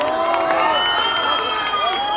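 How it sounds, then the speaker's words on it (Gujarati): Audience at a restaurant inauguration clapping and cheering, with shouts and high voices layered over continuous applause, loud and busy throughout. "એટલે તમારા માટે એકવાર પ્લીઝ તાળીઓ પાડી દો."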